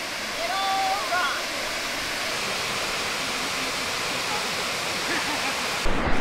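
A waterfall on Siquijor island roars as a dense, steady rush of water heard up close, with a brief bird chirp near the start and a sudden bump at the end.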